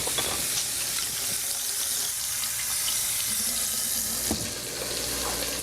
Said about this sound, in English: Give that a minute while I wash all this chicken off my hands.